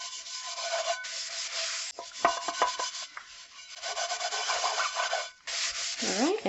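Scouring a burnt pot bottom with Comet cleanser: close, loud gritty scrubbing strokes in uneven bursts with brief pauses and a few clanks of the pot, no talking.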